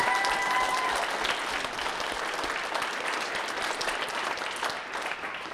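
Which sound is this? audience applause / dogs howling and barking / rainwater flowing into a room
audience applause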